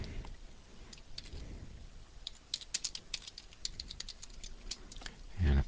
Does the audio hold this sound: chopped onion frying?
no